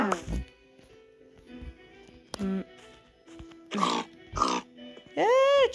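A pig grunting and oinking in a Minecraft-style block video game, several short snorts followed by a longer squeal, with some speech mixed in.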